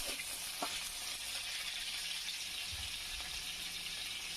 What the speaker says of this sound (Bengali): আমি তেল দিয়ে আলু আর লবণ দিয়ে আমি একটু ভেজে নিচ্ছি।